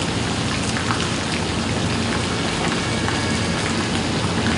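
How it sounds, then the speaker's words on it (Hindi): Heavy rain pours steadily onto surfaces in a Meerut street, a dense, loud, unbroken hiss of drops close by with no voices over it. "बारिश फिर से पड़ने लगी है, और बारिश देख सकते हैं आप बहुत तेज पड़ रही है"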